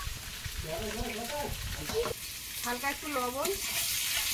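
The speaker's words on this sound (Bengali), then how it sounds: "ডিমটা ভাজা হয়ে গেছে, উঠিয়ে নেবো।" Eggs frying in a pan in a home kitchen, a soft crackling sizzle running continuously beneath a person talking close by.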